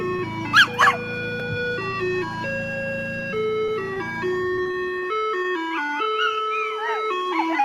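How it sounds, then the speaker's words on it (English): An ice cream truck plays its tinkling electronic jingle nearby, a steady run of bright tones stepping through a melody, with a dog's brief excited barks or whines near the start and end. "this doggy loves the sound of the ice cream truck"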